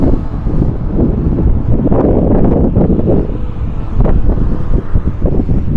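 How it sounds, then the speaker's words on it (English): Gusty wind buffeting a microphone outdoors in a small park in Tomari, loud low rumbling blasts that swell and drop irregularly throughout, with no speech. "So it's actually quite windy here."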